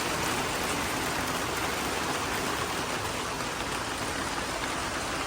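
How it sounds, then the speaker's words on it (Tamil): Steady, loud rain and wind roar outside in a dense, unbroken hiss of falling water that fills the whole scene without pause. "மழையும் காற்றும், குளிர், வெளியில் இருக்க முடியாது"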